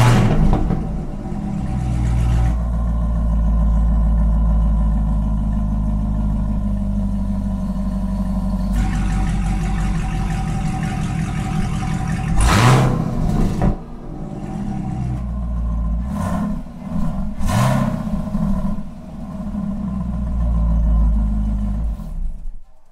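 A 2016+ Camaro SS or ZL1 with a Corsa Xtreme NPP valved exhaust idles with a deep exhaust burble, then revs sharply a few times in short bursts before settling back to a steady rumble.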